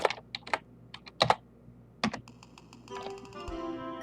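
Someone types a name on a computer keyboard while playing Pokemon Uranium, a quick run of separate clicking keystrokes, then brighter electronic game tones at the end.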